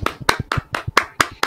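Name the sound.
people clapping hands for DeMar DeRozan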